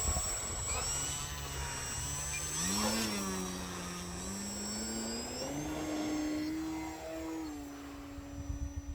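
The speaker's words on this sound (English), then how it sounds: "right now I'm testing it to see how it performs taking off and landing from grass." Electric motor and propeller of a 3D-printed RC Sportster model plane taking off from grass, a whining drone that rises in pitch and then holds steady as it gets airborne.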